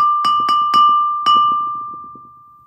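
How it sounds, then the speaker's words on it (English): Four ringing strikes with a wooden spoon on a resonant, glassy homemade instrument, three evenly spaced and one after a pause, each leaving a sustained bell-like tone that slowly fades. "Here I have a wooden spoon. Let's see what that sounds like."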